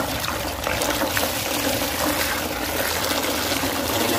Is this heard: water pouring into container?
yes